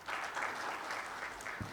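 An audience at a professional seminar on personal guarantor insolvency gives a short round of applause, a soft and distant patter of clapping heard quietly for under two seconds.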